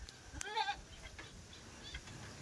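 A single goat bleats once, a short wavering cry over a faint, noisy outdoor background.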